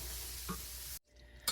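Garlic, onions, bacon and beef being stirred in a hot pan, a steady close sizzle with scraping, broken by a brief near-silent gap before the frying noise resumes.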